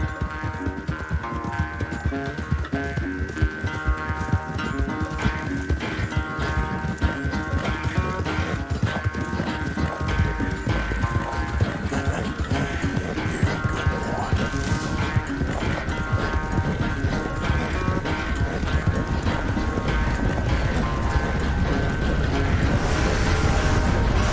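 Horse hooves gallop in a steady, dense clip-clop rhythm throughout a Red Dead Redemption 2 ride, loud and continuous with a layered game soundscape and no speech.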